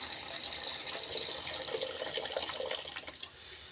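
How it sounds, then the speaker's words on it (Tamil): Tamarind water is poured into a pot of thuthuvalai rasam, a steady splashing gush of liquid lasting several seconds before it tapers off. "புளி தண்ணியை அதையும் உள்ளே சேர்த்துடலாம்"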